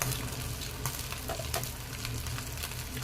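Chicken kebab pieces frying in a pan over a medium flame, giving a steady close sizzle with scattered light clicks and taps as pieces are turned over.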